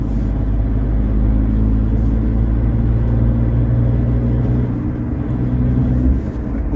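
A Tata Punch car accelerating and shifting up to fifth gear on a highway, heard from inside as a loud, steady low engine drone and road rumble that dips slightly near the end.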